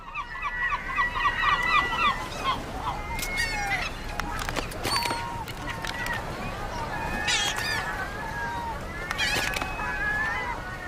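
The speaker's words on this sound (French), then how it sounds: "Les mouettes investissent les bateaux de pêche à la recherche de nourriture." Seagulls calling around fishing boats in a busy chorus of shrill cries and squawks over steady outdoor background noise, several birds overlapping near and far.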